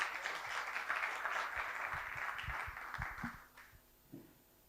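Conference audience at a talk on developing Sylius applauding the attendees, a moderate crowd clapping that swells then gradually thins out and fades, leaving a few scattered claps near the end.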